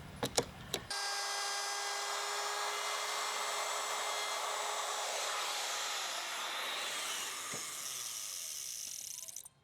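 Wood router fitted with a keyhole bit cuts a slot for a picture or book rail, starting after a few clicks into a loud, steady high-pitched whine that holds nearly ten seconds before winding down, close by with no talk.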